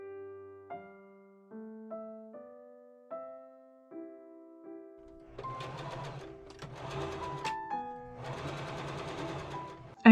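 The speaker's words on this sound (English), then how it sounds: "I machine sew the side seams up using a straight stitch." A sewing machine runs a straight stitch along the side seams of a Halloween cosplay costume in three whirring bursts in the second half, over light, plucked melodic music.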